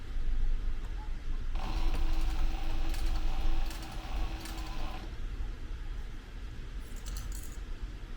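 A sewing machine stitches a backpack with a close, mechanical whirring run that starts near the second and a half and stops around five seconds, with quieter rattling before and after.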